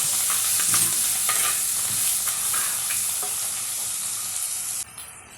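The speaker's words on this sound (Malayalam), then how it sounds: "ഇഞ്ചി വെളുത്തുള്ളി പേസ്റ്റ് അര ടേബിൾ സ്പൂൺ ചേർക്കുക മിക്സ് ചെയ്യുക" Ginger-garlic paste fries in coconut oil in a pan with popped mustard seeds, stirred with a spoon; a steady close sizzle runs throughout with scraping strokes, then cuts off abruptly near the end.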